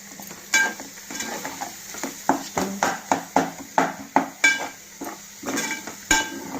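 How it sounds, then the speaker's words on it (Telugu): Mutton keema masala stirred in a pan over a low flame, a quick series of scraping strokes against the metal under a soft sizzle, close and moderately loud with no talking. "బాగా కలుపుకోవాలండి. సిమ్లో పెట్టుకోవాలి"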